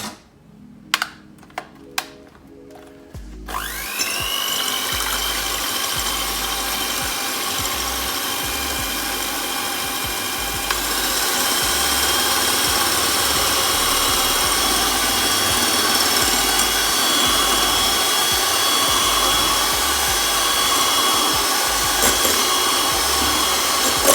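An electric hand mixer whips salted egg whites to stiff peaks for a speculoos tiramisu, starting after a few sharp clicks and then running as a loud, steady whirring drone that holds to the end.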